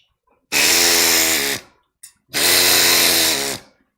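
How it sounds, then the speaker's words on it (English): A CNC machine cutting out part tabs runs in two loud, sustained bursts of steady whining machining noise, each about a second long, separated by a short pause with a brief click. "I have played around with letting the machine go and cut out all these tabs"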